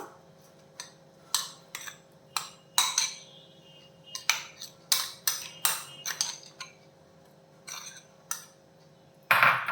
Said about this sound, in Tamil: ஒரு மிக்சி ஜார் எடுத்துட்டு இந்த ரவையும் சேர்த்து ரவையை சேர்த்துடலாம்